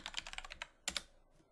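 Brief burst of quick keystrokes on a computer keyboard as a short command is typed, a rapid cluster of light clicks, a pause, then a couple of final taps, close and quiet.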